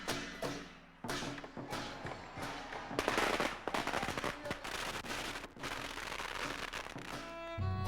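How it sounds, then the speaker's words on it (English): Firecrackers burst at a Chinese New Year celebration, a dense crackling stream of sharp pops and bangs with heavier thumps, fairly faint and continuous throughout. "that is the sound of the firecrackers."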